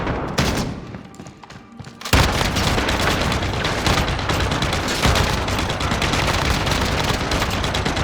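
RAAL light machine gun firing in Call of Duty Modern Warfare: after a quieter stretch of ambience, a sustained loud, rapid stream of automatic fire with heavy booming impacts fills the rest.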